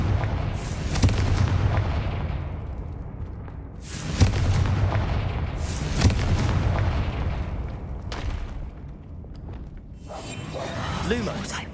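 Confringo blasting spells explode in the video game Hogwarts Legacy, with about four heavy, booming blasts spaced a couple of seconds apart, each trailing into a rumbling decay, and a brief whooshing burst near the end.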